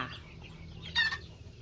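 Chickens cluck softly, a Thai native-bantam-junglefowl cross flock, with one brief sharper cluck standing out over a quiet background.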